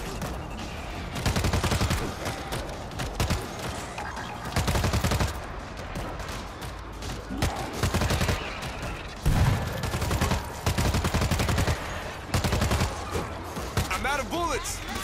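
Video-game gunfire in World War Z's New York City level rings out in dense bursts and volleys, with short pauses between rapid shots, while a player talks over much of the action.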